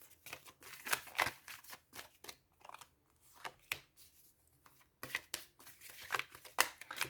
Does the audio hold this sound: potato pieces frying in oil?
no